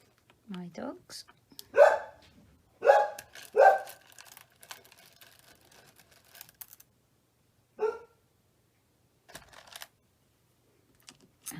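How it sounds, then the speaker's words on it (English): Dogs in a home craft workspace give several short barks, three close together near the start and one more a few seconds later. Faint clicks and quiet gaps fill the rest. "My dogs."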